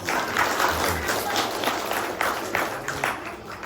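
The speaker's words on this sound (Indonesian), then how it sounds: "kita beri aplaus," The congregation at an outdoor Pentecost church service breaks into lively, energetic clapping. The short, dense burst of many hands has a few voices mixed in.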